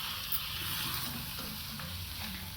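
A brinjal gojju mixture sizzles steadily in a hot tempering while being stirred, a close, continuous frying hiss with soft scraping underneath and no talking.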